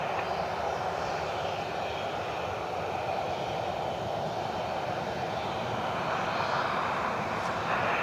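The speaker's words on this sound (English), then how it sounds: "So one citation heading out." A Cessna Citation jet taxiing out at Cleveland Hopkins airport gives a steady, distant engine rumble and whine that holds level throughout with no talk.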